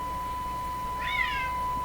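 A cat meows once, a short clear call heard over the steady hum and hiss of a shortwave radio receiver tuned to the 6 megahertz band, with a constant tone running beneath.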